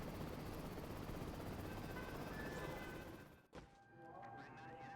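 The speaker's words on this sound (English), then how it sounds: "there's the Black Hawk helicopter" A Black Hawk helicopter in the video game Prototype makes a loud, steady rotor and engine roar across most of the clip. The sound cuts off sharply near the end, then gives way to quieter game noise.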